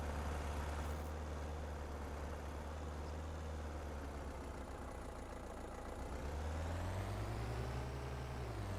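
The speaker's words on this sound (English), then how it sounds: "Turn that engine off." Tractor engine idling in the Farming Simulator 25 video game, a steady low, even rumble held throughout with a slight rise in pitch near the end.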